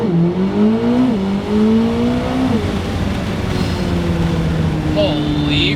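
A Corvette ZR1X with electric front motors accelerates hard, its engine note climbing in pitch through the gears with shifts between pulls, loud from inside the cabin and with a voice talking over it.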